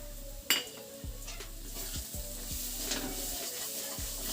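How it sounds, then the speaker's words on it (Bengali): Onion frying dry in a pan for a fish dish, with a continuous soft sizzle under regular scraping strokes of a spatula against the pan, a clank near the start, and no voices. "পেঁয়াজটা একদম এইভাবে শুকনো করে ভেজে নেব"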